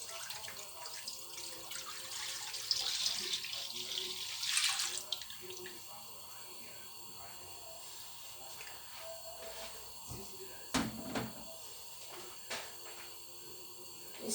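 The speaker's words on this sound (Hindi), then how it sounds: "अब हम इसमें शामिल करेंगे दूध" Milk poured into a hot kadhai for a dates halwa, a soft liquid splash and trickle that swells over the first few seconds and then settles to faint bubbling, with a few light clinks later.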